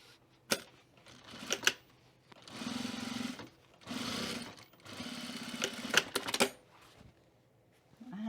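A sewing machine stitches a seam with white thread on a fabric book sleeve, running in three short bursts of fast, even whirring, separated by sharp clicks and handling sounds.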